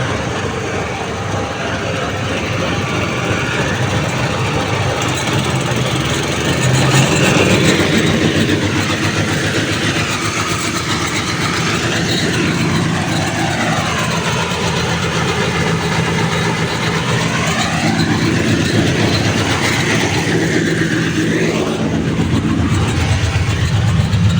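Homemade tractor-mounted mulcher driven by a separate 6.5 horsepower engine, a loud continuous mechanical roar with shifting rumble and whine that holds steady throughout, close to the listener.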